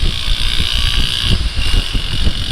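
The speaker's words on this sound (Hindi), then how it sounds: "ना तो बाइक मिसिंग कर रही है और ना ही कहीं रुक रही है" Honda CB 150F motorcycle engine while riding on a tour route through Muzaffarabad and Balakot, a steady rough engine drone with rapid low pulsing and strong wind rush, loud and close throughout.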